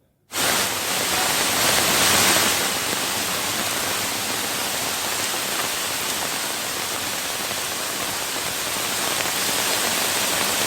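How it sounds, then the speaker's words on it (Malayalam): Heavy rain pours down on the Thamarassery mountain pass road during landslides, a dense, even hiss that starts abruptly and holds steady and loud with no voices. "ശക്തമായ മഴയിൽ മണ്ണും കല്ലും റോഡിലേക്ക് ഒഴുകിയെത്തുന്നു"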